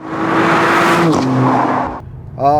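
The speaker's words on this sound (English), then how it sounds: "Once you push the throttle, you know, it's like, yeah, you hear it." The four-cylinder engine of a 2016 Mercedes-Benz CLA 250 4MATIC Coupé revs hard and steadily for about two seconds, then drops off before rising again briefly; loud and close.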